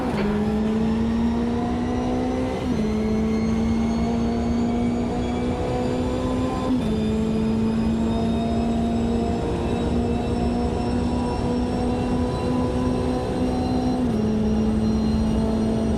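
Race car engine in Automobilista 2 at Road Atlanta, a loud sustained high-pitched drone with several gear shifts punctuating it, held steady and close throughout with no talking.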